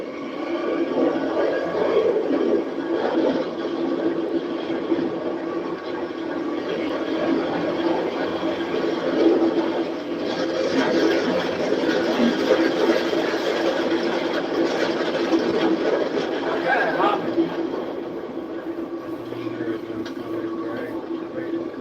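A steady car engine drone runs throughout with a low rumble, rising slightly in the middle as it is revved, with faint voices underneath.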